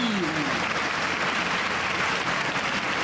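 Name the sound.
audience applause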